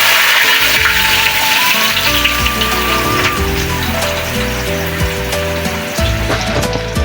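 Onion and garlic hitting hot oil in a kadai, a loud, dense frying hiss and crackle running steadily throughout, with faint clinks of utensils over it and no talk.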